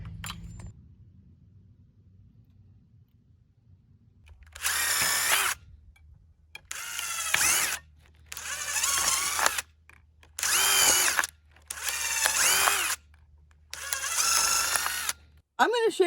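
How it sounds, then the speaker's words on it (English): A power drill pre-drills holes through a metal mason jar lid in six loud, close bursts of a few seconds each, separated by short gaps, with a low steady hum underneath. "pre-drill the holes through the metal lid so you're not trying to screw through them."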